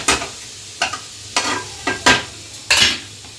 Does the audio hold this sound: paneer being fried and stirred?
yes